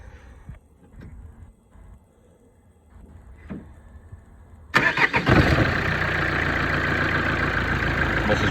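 After a few seconds of faint clicks and rustling, the 1.9 dCi diesel engine of a Primastar/Trafic/Vivaro van cranks and catches after a fuel filter replacement, then settles into a loud, steady running rumble close by.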